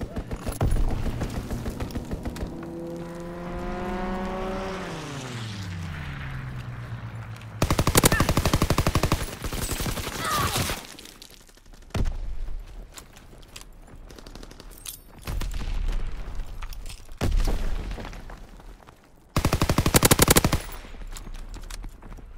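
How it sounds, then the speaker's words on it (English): Automatic gunfire from an enemy strafing run in a ranked online shooter, loud bursts of rapid fire arriving in several separate volleys with a mechanical drone sweeping downward at the start. "Enemy strafing run inbound."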